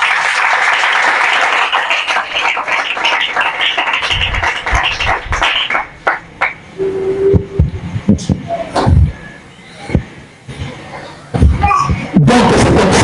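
A church congregation applauding and acclaiming the Lord at a seminar gathering, with a dense wash of clapping early on that breaks into scattered claps and taps, and a voice speaking over it later.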